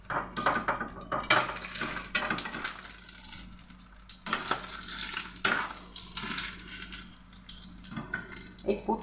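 Spring rolls stuffed with boiled potato, carrot, vegetables, onion, garlic and Maggi masala fry in a kadai, giving a steady close sizzle broken by sharp clinks and scrapes of a spatula.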